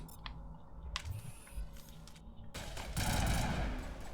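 Weapon fire in the video game Mass Effect: Legendary Edition on Xbox One X, sharp shots at first, then a dense rapid burst of gunfire near the end, with no talk.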